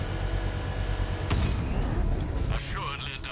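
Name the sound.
power winch operating in Batman: Arkham Knight video game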